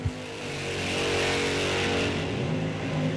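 Mopar drag race cars launch at an NHRA National Open, a loud rising engine roar swelling from a sharp start into sustained acceleration, close and dense, with no voices over it.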